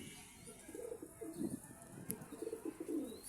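Pigeons coo in soft, low, throaty phrases, several repeated calls rising and falling at moderate distance, with a brief high chirp midway and no talking.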